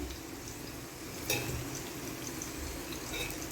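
Sliced onions fry in hot oil for mutton biryani, a soft steady sizzle with one brief clink of a utensil against the pan, fairly faint.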